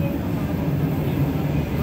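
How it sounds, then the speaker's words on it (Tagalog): Train pulling into Olympic Park station in New South Wales, Australia, a steady low rumble of rail wheels and motors filling the platform, with voices faintly mixed in. "May tren na."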